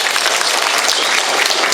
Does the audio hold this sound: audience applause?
yes